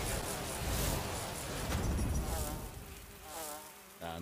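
Dense insect buzzing swarms loudly from Jujutsu Kaisen season 2 episode 3, a thick continuous droning hum that fills the scene, briefly thinning toward the end.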